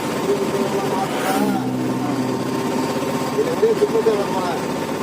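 An auto rickshaw engine putters steadily up close on the road from Kambam to Kambammettu while people talk over it.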